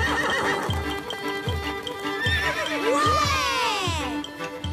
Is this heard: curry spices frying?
no